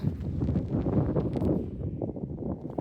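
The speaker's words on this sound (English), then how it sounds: "it's super windy here" Gusty wind buffets the microphone with a low, rumbling roar that rises and falls, loud and close throughout.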